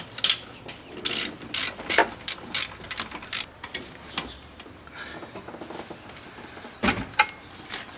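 A ratchet removes a 10mm bolt on a Chevy 3.8L engine during intake manifold work, with quick clicking bursts in several rounds, then slower, quieter clicks close to the mic.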